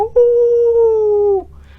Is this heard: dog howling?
yes